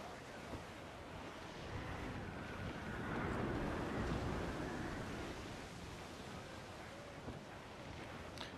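Wind roars steadily over rolling ocean waves at sea in Assassin's Creed IV: Black Flag, a loud broad rushing wash that swells in the middle and stays continuous throughout.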